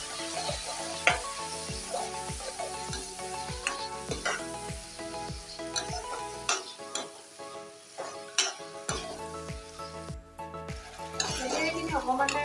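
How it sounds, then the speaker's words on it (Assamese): Yogurt (curd) frying with jackfruit in a pan for an Assamese jackfruit curry, with a steady sizzle, repeated spoon-stirring scrapes and occasional metal clinks throughout, close and alone without speech. "এইখিনি অকণমান ধুনীয়াকৈ ভাজি থাকিব লাগিব"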